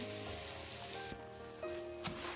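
Gram flour batter fries steadily in hot oil with a constant soft sizzle, close by and fairly quiet, a couple of faint clinks and shifts partway through.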